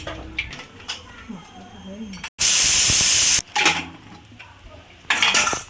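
A pressure cooker cooking mutton lets out a loud, one-second rush of hissing steam, surrounded by quieter utensil clatter and a speaking voice.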